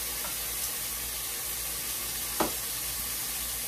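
Cubed steak sizzles steadily in a frying pan, a continuous broadband hiss with a soft stir or clink partway through, close and moderately loud with no talking.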